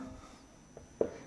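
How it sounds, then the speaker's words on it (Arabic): A pen writing during a lecture: faint, brief scratching strokes on a quiet background, with one slightly louder scrape near the end and no talking. "ترى إخوان صوت القلم هذا مو صوتي"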